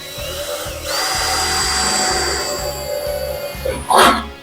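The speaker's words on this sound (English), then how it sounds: "now we get to find out if I happened to maybe pick out a decent drill bit to get us started" A power drill spins a drill bit into material with a steady, loud whine that rises as it starts, holding for a few seconds before a brief rattle and a short burst of handling noise at the end.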